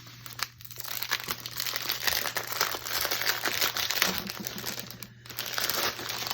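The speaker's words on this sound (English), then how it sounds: "Sorry for the crinkling." Plastic packaging from a GFBKE paint-by-numbers kit crinkles continuously during unboxing, with dense crackling rustles and a couple of short pauses, close and fairly loud, with no talking.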